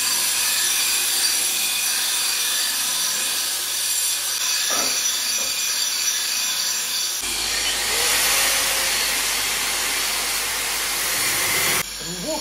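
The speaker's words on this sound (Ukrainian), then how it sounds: "це я зразу болгаркою, напевно, рівно зроблю" An angle grinder cutting steel for a knife made from Damascus and a bearing gives a loud, continuous grinding whine, rising harsher midway, with no speech.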